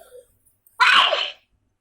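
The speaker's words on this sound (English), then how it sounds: "Who is this sneezing?" A child sneezes once in a classroom during an English lesson, a single sharp burst that stands alone and close after a brief faint voice.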